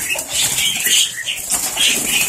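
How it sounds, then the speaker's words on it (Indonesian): Bali starlings, a flock of white starlings with many young birds, flutter and flap their wings close by in a steady, busy rustle with high chirpy bursts, and no voices. "Ini jalak Bali."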